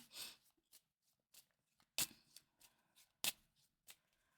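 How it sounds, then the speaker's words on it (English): Tarot cards being shuffled up close, a series of crisp riffling bursts and soft slaps at uneven intervals, quiet between them. "we're going to shuffle the cards"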